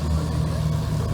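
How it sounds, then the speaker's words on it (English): Ford GT40 Mark I V8 at a concours event, idling with a deep, loud, steady rumble heard close up for a moment. "You can listen to that engine. V8,"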